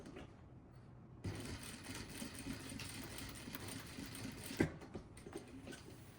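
A sewing machine runs in a quiet room, stitching a belt loop onto the back seam of a pair of pants, with a steady mechanical whir and one louder clunk near the end.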